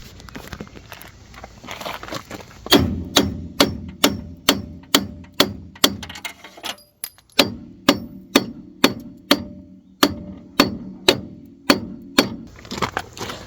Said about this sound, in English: So I had to tap the ball joint loose. Finally got it after a lot of smacks without a pickle fork.